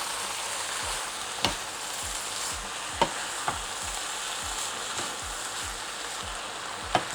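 Couscous being stirred with fat in a pot, a continuous gritty scraping and sizzling texture with occasional sharper clinks of the utensil against the pot, close and steady.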